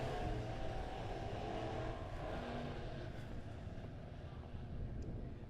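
Midwest Modified race cars roar steadily through a heat race at Springfield Raceway, a dense continuous engine drone from the pack with no pauses.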